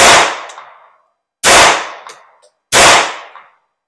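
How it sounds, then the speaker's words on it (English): Three sharp, loud gunshots from a Beretta 950BS Minx pistol firing light .22 short loads at a range, each a crisp crack with a short decaying tail, spaced about 1.3 seconds apart, with no talking. "I'm gonna shoot at the right target."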